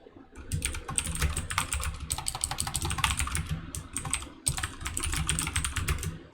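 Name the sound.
typing on a computer keyboard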